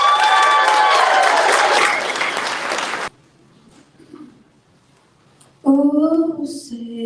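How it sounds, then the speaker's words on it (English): An audience at a town hall and debate event gives a dense, loud round of applause with some cheering for about three seconds. It cuts to near silence, then a singing voice begins. "Please give a round of applause to Pahrump's very own Adelaide Bosque."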